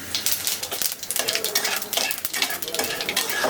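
Spices spluttering in hot mustard oil with bay leaf, dried red chilli, cumin and fennel, a steady close sizzle broken by stirring and light scrapes of a utensil against the pan, no voices.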